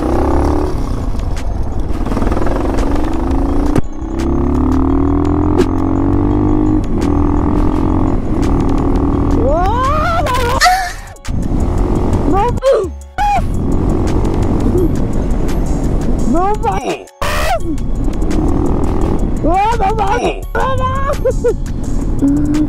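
A motorcycle engine runs steadily while riding, a constant droning hum with rising and falling whines, under frequent loud talk and wind buffeting.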